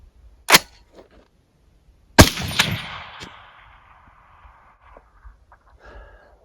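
A PSA Sabre-10A2 rifle firing from a P-mag at a long-range target, two sharp loud shots a couple of seconds apart, the second followed by a rolling echo that fades out, with faint small noises after.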